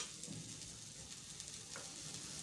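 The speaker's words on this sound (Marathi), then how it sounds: "तर हे बघा सर्व मसाला जो आहे मी अशा प्रकारे भाजून घेत आहे।" Whole spices (red chillies, cumin, coriander seeds, cloves, black pepper, cardamom) are dry-roasted in a pan, giving a soft, faint rustling sizzle with light scraping from stirring, quiet and continuous.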